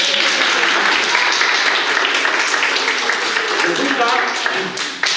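Audience at a children's show in La Vall d'Uixó breaking into applause, a dense, loud wash of clapping that holds steady for several seconds before dropping away at the end.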